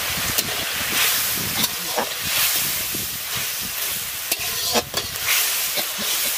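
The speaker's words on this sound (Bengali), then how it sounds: "এবার আমি মশলাটা খুব ভালো করে কষিয়ে নেব।" Spice paste for a Bengali chicken curry sizzles and hisses steadily in a hot pan at an outdoor picnic, with repeated scraping stirs of a spoon cutting through the close, loud frying.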